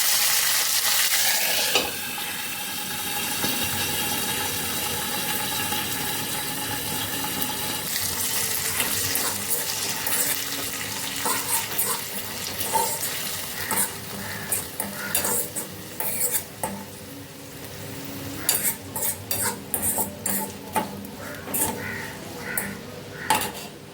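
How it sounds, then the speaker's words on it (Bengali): Mustard seeds and curry leaves crackling in hot oil in a frying pan, a continuous sizzle with scattered sharp pops and bursts growing busier toward the end, close by and without speech. "এই কারণে সর্ষেটা ভীষণ ফাটে, চারিদিকে ছড়িয়ে যায় সর্ষেটা ফেটে"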